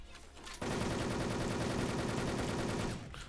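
Rapid, continuous automatic gunfire in a Wolfteam shooter video game fires loud and close for about two and a half seconds in one sustained burst. A short stretch of quieter game ambience comes before it and after it.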